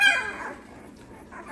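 Puppies playing together, giving high-pitched yips and squeals at the start, then a quieter stretch before another burst of yipping, close and fairly soft.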